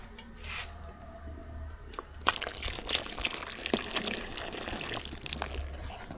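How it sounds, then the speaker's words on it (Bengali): Dissolved powdered milk mixture poured from a container into a cooking pot while making dudh puli pitha, a soft steady liquid splash with a few sharper spattering bursts midway, close and fairly quiet. "এবার এটা হাঁড়ির ভিতর মিশাই দেবো"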